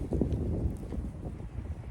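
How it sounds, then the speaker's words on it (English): Outdoor wind buffeting a microphone at dusk, a steady low rumbling roar with gusty swells throughout, no voices. "Sorry for the wind."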